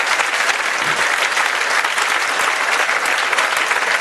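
A crowd at a ceremony honouring an NDA selection topper and her parents breaks into loud, dense applause that stays sustained and even throughout.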